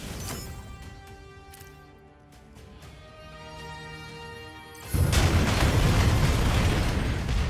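Barrage of explosions in the Mecha Break mech game, a dense sustained roar of blasts erupting loudly at about five seconds after quieter musical game sounds with tonal effects.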